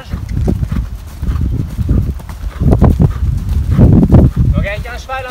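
A show jumping horse moves during a training session with rhythmic hoof thuds on footing, steady and fairly close, while a rider talks and a brief whinny-like sound rises at the end.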